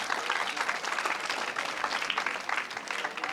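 A crowd claps steadily and warmly for a few seconds, a dense patter of many hands in a large room.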